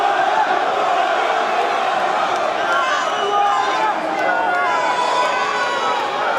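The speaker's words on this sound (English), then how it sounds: "as many people cheering for him as booing against him" A large crowd at a boxing weigh-in for Carl Froch, a dense continuous roar of mixed cheers and boos with shouting voices, loud and sustained, heard from within the hall.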